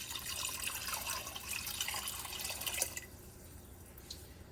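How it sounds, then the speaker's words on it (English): Water from a kitchen tap running into a cooking pot, a steady splashing rush that cuts off near the end, leaving a faint drip in quiet. "we're going to fill our pot with water and try not to splash everywhere like I am"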